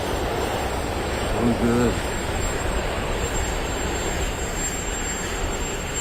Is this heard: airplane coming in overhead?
yes